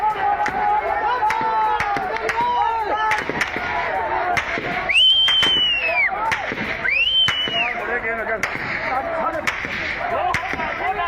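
Gunfire as an army fires on protesters in Dadyal, rapid sharp cracks repeating throughout amid loud crowd shouting and screaming, with rising wails standing out over the din.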